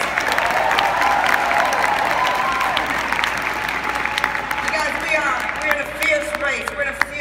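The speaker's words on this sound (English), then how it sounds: "give the Nationals a big round of applause" Loud, sustained applause from a large conference audience for the Nationals, a dense roar of clapping with cheering and voices mixed in, continuing steadily without pause.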